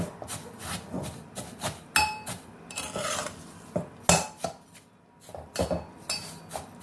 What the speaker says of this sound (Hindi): घुमा घुमा कर भूनते जाना है, लाल करते जाना है।